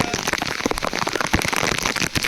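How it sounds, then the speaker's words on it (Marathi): Heavy rain pours down in a dense, steady roar, with sharp drops splattering loudly against nearby surfaces throughout. "कसला पाऊस आलाय"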